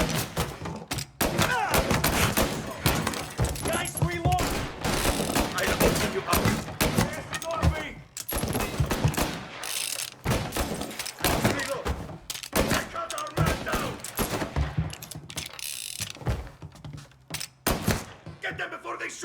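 Rapid gunfire and heavy impacts from a firefight in the video game Mafia Definitive Edition, with dense, loud shots and thuds packed across the whole stretch and voices breaking in amid the shooting.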